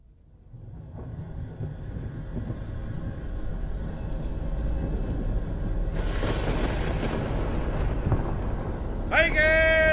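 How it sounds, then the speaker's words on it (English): Low, sustained rumbling storm noise, a thunderstorm effect for a ship at sea in a live Shakespeare reading, builds and swells over several seconds, with a rolling thunder-like roar and a sharp tonal whistle near the end. "on a ship at sea, a tempestuous noise of thunder and lightning"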